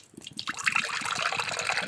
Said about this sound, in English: Go ahead and give it a little pour.